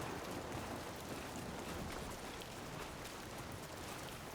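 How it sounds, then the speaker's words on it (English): Rain in Death Stranding 2 falls as a steady, soft, even hiss of dense drops, faint and unbroken throughout, with no voices over it. "It's raining."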